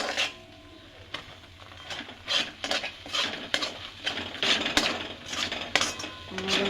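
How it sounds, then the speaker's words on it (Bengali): Rice flour is stirred into boiled water in a pot to form dough, with repeated scraping and clinking of a utensil against the pot in an uneven rhythm, close and alone. "এবার গুঁড়িটা দিয়ে নাড়াচড়া করে একটা ডো করে নেবো"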